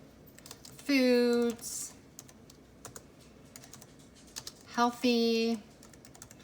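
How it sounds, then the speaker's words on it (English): Computer keyboard typing of a web search, with light scattered keystrokes throughout, while a person speaks in two short bursts in between. "I'm going onto Google, and in the bar I'm gonna type whole"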